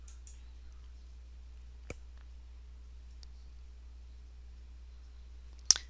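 Computer mouse clicks sound while a web form is saved: a few sparse, quiet, isolated clicks over a steady low hum, with a sharper click near the end.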